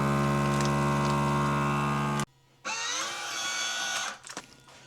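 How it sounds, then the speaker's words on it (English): A vacuum sealer seals a bag of pork hocks with bay leaf, thyme, garlic and peppercorns for sous vide: a loud steady pump hum, a sudden stop, then a second whirring burst that fades out. "let's head to the vacuum sealer"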